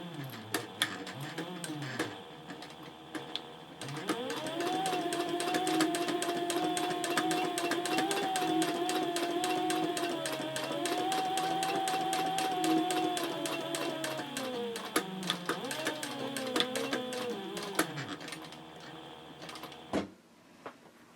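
A sewing machine stitches the flap onto a Bellezza handbag at a 3.5 stitch length, with backstitching at the ends. Its motor whirs in a steady, close, continuous run, then falters briefly and stops near the end.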